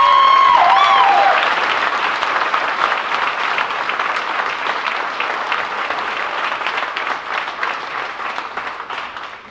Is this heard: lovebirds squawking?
no